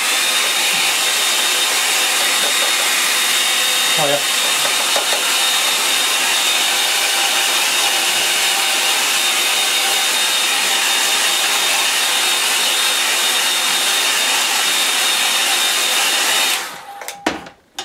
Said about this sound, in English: I'll go just to dry that off a bit